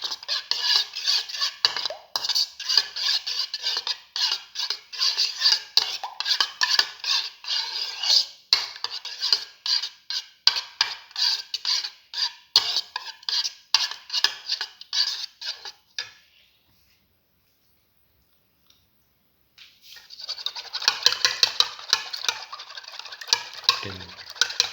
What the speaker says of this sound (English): Mix the yellow and white portion of the egg.